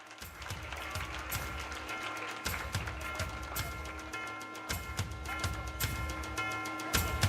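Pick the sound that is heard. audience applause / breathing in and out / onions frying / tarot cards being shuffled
audience applause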